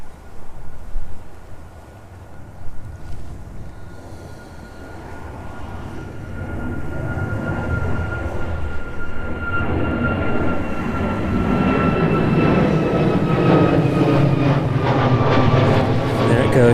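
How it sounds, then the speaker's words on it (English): A jet airliner departs East Midlands runway in strong Storm Amy gusts, its engine roar swelling from distant to loud and sustained, with a high whine and wind buffeting throughout. "See how well it battles the wind as those gusts really start to pick up now."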